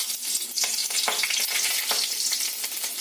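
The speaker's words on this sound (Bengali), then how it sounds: "তেলটা গরম হয়ে গেছে, এতে দিয়ে দিতে হবে 3 কোয়া রসুনকে আমি ছাড়িয়ে রেখেছিলাম, সেই রসুনগুলো দিতে হবে ভাজার জন্য।" Peeled garlic cloves and a green chili fry in hot oil, a continuous close crackling sizzle with bursts of spattering and occasional stirring scrapes, no voices.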